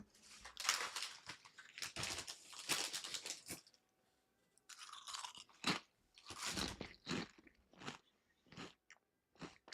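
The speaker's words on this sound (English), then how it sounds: "should probably mute myself so you don't hear my chewing" Close, wet crunching and chewing of food in bursts, with short pauses between bites and a few isolated crunches toward the end.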